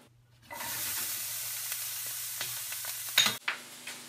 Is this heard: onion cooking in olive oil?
yes